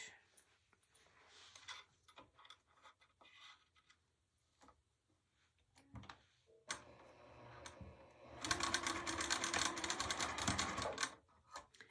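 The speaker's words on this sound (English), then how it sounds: "And then I sew just on the very edge to make sure that it is as, close to perfect as I can get it" A sewing machine stitches along the very edge of a quilted nine patch bag. Quiet handling clicks come first, then a steady run of stitching builds and grows louder toward the end, with no talking.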